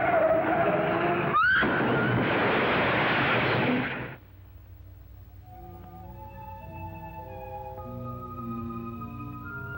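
A car with failed brakes skids, giving a loud harsh tire screech for about four seconds before cutting off into quieter dramatic music.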